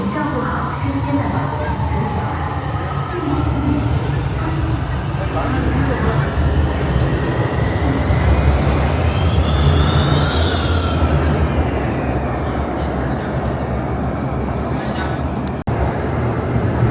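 A Shenzhen Metro subway train rumbles and screeches along the track, loud and continuous, with a rising whine in the middle and muffled crowd noise around.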